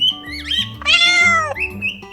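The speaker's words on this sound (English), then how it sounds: "Cat," A cat meows loudly and close, one drawn-out meow over soft background music.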